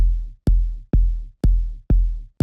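A kick drum layered with a short click sample built from leaf-rustling Minecraft sounds hits six times at an even, quick pulse, each punchy low thump decaying with a faint bright tick on top.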